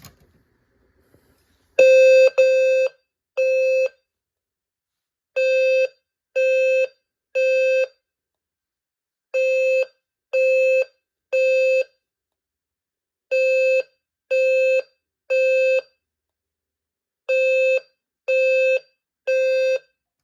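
A white System Sensor fire alarm sounds alone in groups of three clear electronic tones, a louder first pair then repeating triplets with short gaps between groups, steady and close.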